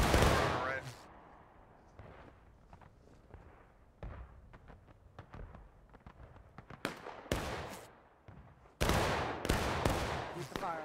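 Civil War-era musket volleys in War of Rights crack out in scattered bursts, some near and sharp, others distant, building into dense rippling fire at the end.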